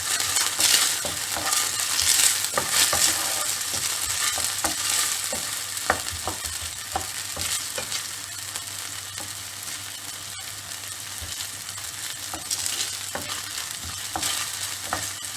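Six to seven finely chopped garlic cloves fry in hot oil for Cajun prawns, a steady close sizzle broken by frequent scrapes and taps of a utensil stirring the pan, with no one talking.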